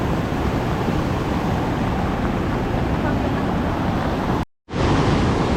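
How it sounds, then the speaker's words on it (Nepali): The flooded Khare river rushes past in a loud, constant roar of turbulent water, broken by a brief cutout near the end, with no talking heard. "खरे खोला पनि यतिको बढेर यहाँ चाहिँ तर्न अलिकति हम्ने हुनेछ"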